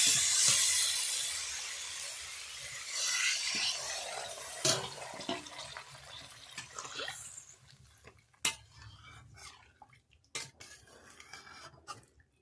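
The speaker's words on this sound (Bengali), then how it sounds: "এর মধ্যে আমি জল দিয়ে দেবো।" Water pours into a pan of curry made with yam and potato. A loud rushing splash sounds at the start and fades, followed by clinks and scrapes of a utensil against the pan. It is close up and has no talking.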